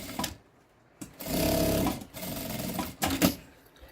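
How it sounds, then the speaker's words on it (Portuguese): A sewing machine stitches along the edge of a fabric pouch in two loud, close whirring bursts separated by brief pauses, ending with a few clunks as the stitching stops; no one speaks. "Vou colocar assim as pontinhas pra dentro e passar uma costurinha aqui na beiradinha."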